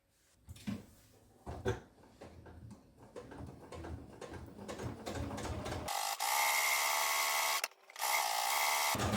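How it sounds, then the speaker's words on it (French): A sewing machine stitching fabric squares for quilting: scattered handling clicks and rustles lead into a loud, steady mechanical whir that breaks briefly and then resumes. "Alors, on va aller coudre ça."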